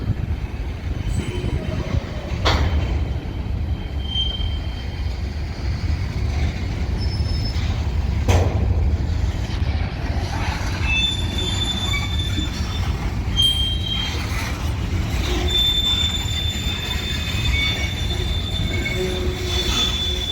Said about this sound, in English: I can see some of the tank cars of that same train that is going into the yard